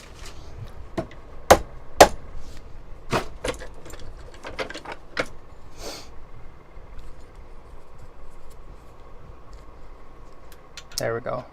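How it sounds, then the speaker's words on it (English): Hammer striking a metal whale tail bangle during jewelry making, a few sharp separate taps, two louder hits near the start and others spread through the clip, over a quiet workshop background. "to be able to hit with the hammer."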